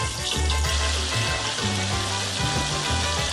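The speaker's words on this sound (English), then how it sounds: "Drain a little bit your piece of meat and put it into the oil." Pieces of pork meat for carnitas fry in hot oil with a dense, steady, loud crackling sizzle throughout and no voices.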